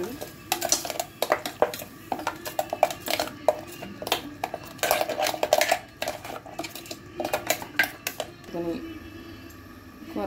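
A spoon stirring brinjal curry gravy with garam masala powder and turmeric in a pot, giving repeated light metallic scrapes and clinks in an uneven rhythm, close by, with a brief louder knock near the end.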